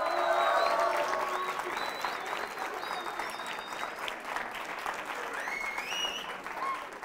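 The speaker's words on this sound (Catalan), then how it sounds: "i us demano un molt fort aplaudiment per ells" An audience claps steadily for finalist Institut Les Aimerigues de Terrassa at a Pica Lletres quiz semifinal, with a few whoops and faint voices over the continuous applause.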